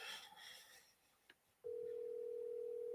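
An outgoing phone call gives a single steady electronic ringing tone that starts after a short quiet stretch and sustains clearly to the end.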